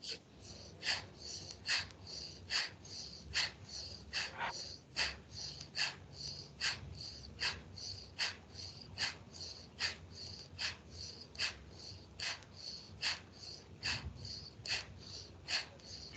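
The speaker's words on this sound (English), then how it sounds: "Breathe in, breath out." A yoga heart-and-lung breathing exercise gives a long run of about two dozen sharp, snorting nasal breaths in a quick, even rhythm, fairly faint and close. There is no talk during it.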